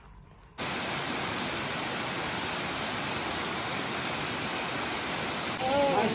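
King Creek Falls roaring on a hiking trail, a loud, steady broadband rush of falling water that starts abruptly and continues unbroken, close and alone.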